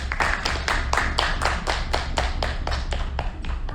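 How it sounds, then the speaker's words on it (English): A panel audience claps for the speakers, giving a loose group clapping with sharp, regular hand-claps at a steady rhythm, fairly close and dry, with no talking over it. "Can we get a round of applause for our panelists?"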